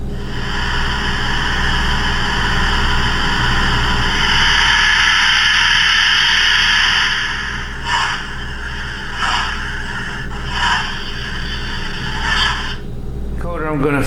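A Hornby TTS sound decoder in a model locomotive runs with a steady, close hissing drone over a low hum, later broken by a few rhythmic puffing bursts.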